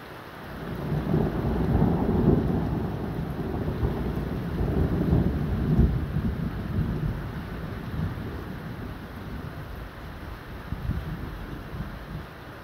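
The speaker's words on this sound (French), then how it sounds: "C'est quoi cet orage le 12 mars?" Deep rolling thunder from a strong thunderstorm on 12 March, rumbling continuously and loudly with wind buffeting the microphone and rain beneath, swelling and fading over several seconds without voices.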